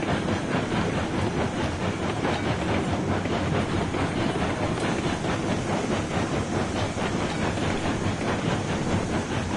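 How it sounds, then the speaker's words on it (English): A locomotive rolls along rails in Railroads Online on the Mesa Plains map, with a steady rhythmic clickety-clack of wheels, hissing steam and a continuous rumble, loud and even with no talking. "the other locomotive that I have, which is this one, does 20 miles per hour"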